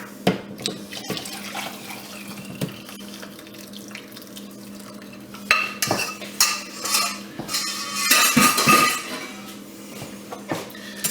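Liquid poured into a pan of béchamel sauce, then a utensil stirring and clinking against the pan, with the pouring and scraping growing busier toward the end.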